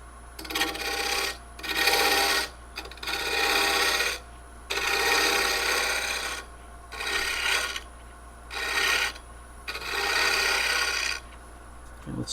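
Rasping strokes on a small spalted oak piece as its bottom is rounded slightly, about eight bursts of rough filing in an uneven rhythm with short pauses between, close and steady, with no talking.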